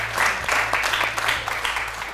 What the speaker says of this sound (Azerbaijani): Alqış Mübariz müəllimə.